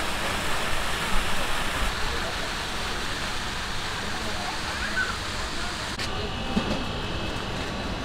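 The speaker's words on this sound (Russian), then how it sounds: "Это то, что новое они сделали, водопад." A newly built waterfall at a Turkish beach hotel sends out a steady, dense rushing roar that stays constant and fairly close throughout, with the background tone shifting slightly partway through.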